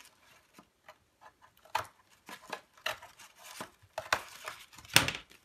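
Scissors trimming and snipping the sides of a cardboard box, a run of quiet, irregular cuts and crisp rustles that grow louder and sharper toward the end, close by with no talk.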